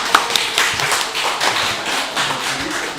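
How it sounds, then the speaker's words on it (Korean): A church congregation gives a short burst of dense, loud clapping for a member. Many hands clap close by for about three seconds. "우리 권명희 집사님에게 박수 한번 크게"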